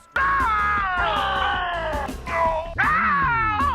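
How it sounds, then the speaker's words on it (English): A stretch doll toy lets out a loud, shrill, wavering scream of agony as it is pulled, one long wail dropping in pitch, then a brief break and a second rising shriek. "these are the only stretch dolls that actually scream in agony when you pull them"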